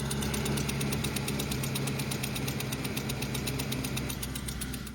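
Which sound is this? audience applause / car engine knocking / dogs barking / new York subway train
car engine knocking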